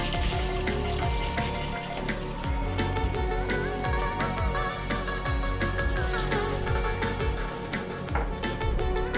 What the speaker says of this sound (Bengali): এবার আমি এতে দিয়ে দেব পরিমাণ মতো জল।